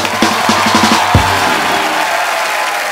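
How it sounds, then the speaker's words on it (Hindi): A studio audience at a comedy talk show breaks into loud clapping and cheering, with rhythmic claps at first and then a sustained roar of crowd noise. "एक बार जोरदार तालियां हो जाए मिस्टर राज कुंद्रा के लिए।"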